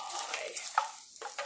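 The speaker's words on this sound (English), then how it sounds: "stir fry." Spaghetti for peperoncino with onion stir-fries in a pan, a close, continuous sizzle broken by scraping stirring strokes.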